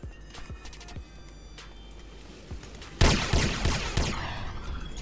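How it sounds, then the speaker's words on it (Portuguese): Police gunfire in the video game GTA San Andreas, with a few sharp single shots early on and then a loud sustained burst of rapid fire that tails off, with no talking. "Tá atirando o policial, tá atirando."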